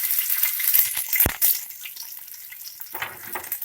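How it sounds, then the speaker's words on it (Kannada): Garlic fries in a tablespoon of hot oil for country chicken curry, giving a bright, steady close sizzle with a sharp clink of utensil on pan partway through. "ಬೆಳ್ಳುಳ್ಳಿ ಸ್ವಲ್ಪ ಫ್ರೈ ಆಗಲಿ."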